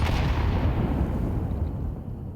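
Grenades stacked together explode at once in a competitive shooter match, giving a loud, deep booming blast. The rumble decays over about two seconds with no voices.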